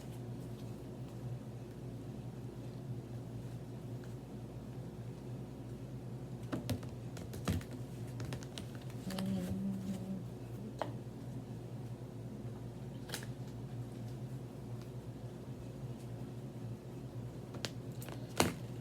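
Tarot cards being shuffled by hand indoors: soft, irregular clicking and riffling taps over a low hum, with a few sharper snaps scattered through.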